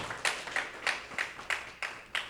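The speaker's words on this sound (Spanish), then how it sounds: "Le damos una ofrenda de palmas al Señor." Church congregation giving a round of rhythmic clapping during a sermon, steady claps in a regular beat about every third of a second, moderately quiet and somewhat distant in a reverberant hall.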